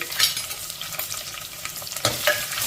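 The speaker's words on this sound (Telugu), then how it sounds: "ఇప్పుడు ఈ పోపును బాగా ఫ్రై చేసేసుకోవాలండి ఆ ఉల్లిపాయ ముక్కలు అలాగే ఆ వెల్లుల్లి బాగా వేగాలి" Oil sizzles steadily as sliced small onions and garlic fry in a pan for tempering, with occasional scrapes and stirs of a spoon and no talking.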